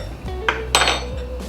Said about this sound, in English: Mix this up well